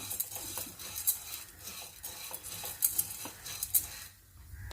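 Sago pearls roasting in a little oil in a pan make quiet, scattered crackles and sharp pops alongside spoon-against-pan stirring clinks. The clip ends in a brief near-silence.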